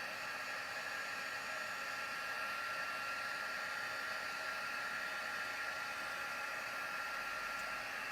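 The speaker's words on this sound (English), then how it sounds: "I'm going to use my heat tool to do that, to heat it up" A handheld heat tool blows hot air in a steady, loud, unbroken hiss and whoosh, close up and alone with no voices for the full stretch.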